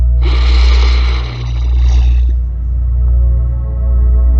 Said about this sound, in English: Now go ahead and close your eyes and take another deep breath in